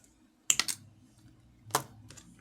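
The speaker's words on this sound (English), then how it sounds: "I'm going to cut it off at the back with my wire cutter." A wire cutter snips jewelry wire at the back of a herringbone wire-wrapped pendant: a close cluster of sharp clicks near the start, then a second crisp snip about a second later, with quiet between.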